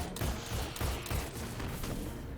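Rapid bursts of gunfire in the video game Destiny 2, with repeated sharp shots and booming impacts in an irregular rhythm, loud and dense throughout without any speech.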